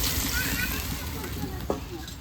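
Water is poured into a pan of onion prawn curry, giving a short, close slosh and splash over a quiet kitchen background, with a voice speaking along with it.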